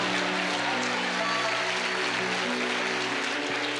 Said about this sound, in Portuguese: dá uma salva de palmas ao Senhor direito